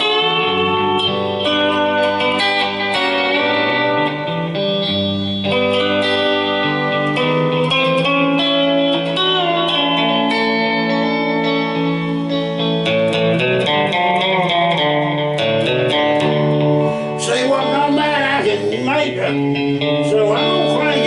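A lap steel guitar tuned to open D and run through a Ditto looping pedal plays sliding, sustained notes and chords with layered repeats, building louder and brighter toward the end.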